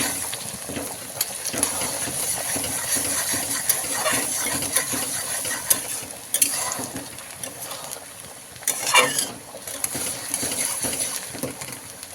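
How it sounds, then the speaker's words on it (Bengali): Onions fry in hot oil with whole cardamom, bay leaf, cinnamon and cloves for a spiced chicken dish, a crackling, hissing sizzle punctuated by sharp clinks and scraping stirs close by. "আর পেঁয়াজটাকে কিছুক্ষণ ভেজে নিচ্ছি"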